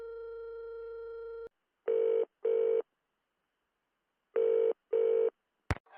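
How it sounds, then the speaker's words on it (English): Telephone tones from the Nancy Drew game The Castle of Malloy: a steady dial tone cuts off, then two pairs of electronic ringing bursts sound with pauses between them, ending in a sharp click. "If I want to call somebody, I need to use my phone card."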